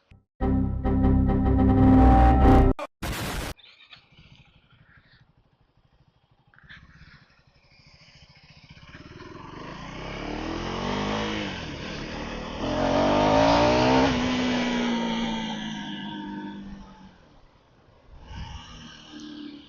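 A 2025 KTM 390 motorcycle on a test ride: a loud engine burst cuts off, then the bike revs and accelerates through rising, shifting engine tones with wind noise, fading and picking up again.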